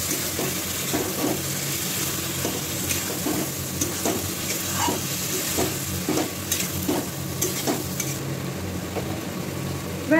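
Pointed gourd (potol) fries in a pan for doi potol, with a steady loud sizzle throughout and regular spatula scrapes and stirs close by.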